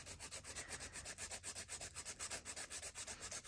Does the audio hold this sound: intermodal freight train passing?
no